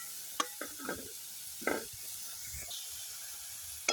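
Carrot and green chili are stirred in hot oil in a pan, a low steady sizzle broken by a few distinct scrapes and clinks of the utensil, close and fairly quiet, with no talking.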